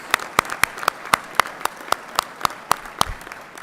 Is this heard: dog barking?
no